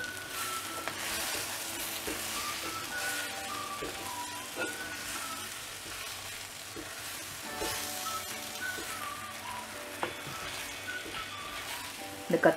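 Dried prawns stir-fried in a mud pot with brinjal and drumstick, giving a soft continuous sizzle with occasional stirring scrapes, faint and close, and a voice talks briefly over part of it.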